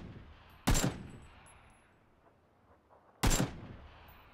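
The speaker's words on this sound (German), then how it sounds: "Ich schieß gerade zwischen diesen Brückendingern hin und her." Two loud single gunshots in PUBG ring out about two and a half seconds apart, each with a short decaying echo over a quiet background.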